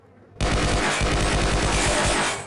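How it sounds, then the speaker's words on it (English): A pistol in Half-Life MMod fires in a rapid, evenly spaced string of loud, close shots, starting abruptly and continuing for about two seconds before trailing off. "You can fire it basically as fast as you can left click."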